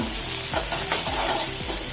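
Chopped onions stirred in a pan of hot oil with popping mustard seeds, a steady loud sizzle with repeated scraping stirs about every half second, close up and without voices.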